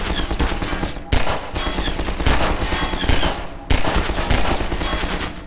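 Rapid gunfire from the video game Half-Life 2, a dense stream of loud close shots broken by two brief pauses, with no voices.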